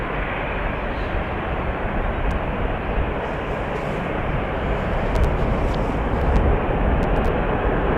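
An Airbus A330 airliner departing Amsterdam Schiphol, its engines a loud, continuous broadband roar that swells slightly as it climbs, heard alone with no talk.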